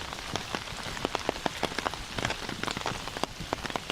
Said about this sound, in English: The rain got a little bit lighter.